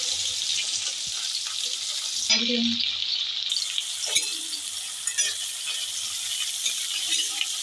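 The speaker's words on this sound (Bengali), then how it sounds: "আমি গোটা জিরে দিয়ে দিয়েছি আর এখানে পেঁয়াজ কুচি দিয়ে দিলাম" Chopped onion and whole cumin seeds frying in a small amount of white oil, a steady bright sizzle with a brief stir or clatter midway and no voices.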